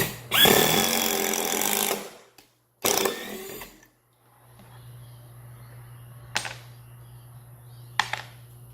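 A Black & Decker BDCI20C cordless impact driver drives screws in two loud bursts, about one and a half seconds and then one second long, followed by a low hum and a couple of sharp clicks.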